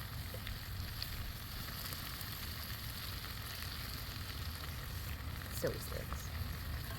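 Steak and asparagus sizzle over a wood fire, producing a soft, steady hiss. A voice speaks briefly over it.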